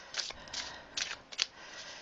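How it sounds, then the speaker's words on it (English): A deck of tarot cards being shuffled close up, with a few soft, quick riffling bursts separated by brief pauses, faint and alone with no talk. "Let me go ahead and shuffle the cards"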